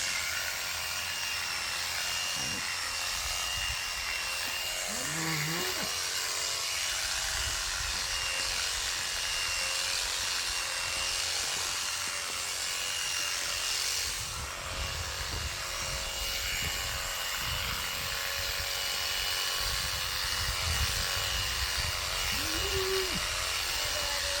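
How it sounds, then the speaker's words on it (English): Electric shears trimming the neck of a sheep on a farm, a steady droning buzz running throughout with small shifts in pitch as the cutter moves through the wool. "So I'll just go trim his neck off for Arnie."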